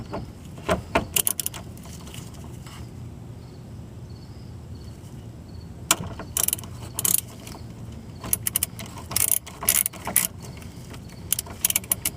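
Ratchet on a 19 mm socket working at the drain plug of a Ford Focus raised on jack stands, sharp clicking bursts scattered between quieter stretches of metallic handling, close and fairly soft.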